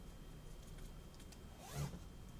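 An invisible zipper on a sewing project is handled in a quiet room, giving a single brief, soft zipping rasp late in the moment over faint steady background noise.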